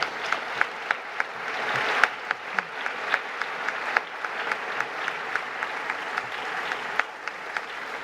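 An audience applauds at the Gallegos del Año 2017 awards gala with sustained, even clapping and a few sharper claps standing out. The applause is moderately distant and fills the whole stretch without speech.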